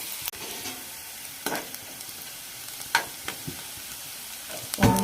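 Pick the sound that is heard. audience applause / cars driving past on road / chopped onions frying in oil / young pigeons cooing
chopped onions frying in oil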